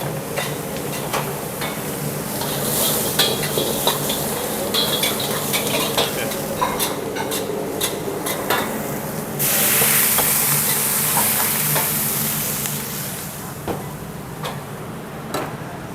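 Stir-frying and flambéing in a wok at a busy restaurant kitchen, with a steady sizzling hiss, clattering metal utensils and a sudden louder whoosh of flame partway through, all close and continuous with no voices.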